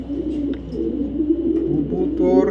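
Racing pigeons coo low and throaty close at hand, a steady rolling murmur of overlapping calls that continues throughout.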